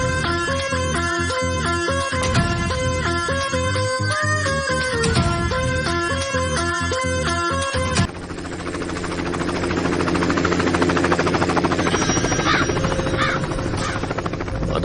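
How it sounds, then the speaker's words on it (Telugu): Helicopter flying over a village in a Telugu comedy film, a loud, steady rotor and engine roar that takes over after a stretch of tonal, music-like sound. "మన ఊర్లో హెలికాప్టర్ ఏట్రా?"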